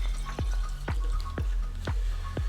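Water glugging into a glass bottle, about 200 millilitres, heard as a run of five evenly spaced hollow gurgling plops rising in pitch as the bottle fills, close and fairly quiet.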